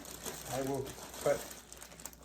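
Quiet crinkling of a plastic bag being handled nearby, with a voice talking softly over the rustling.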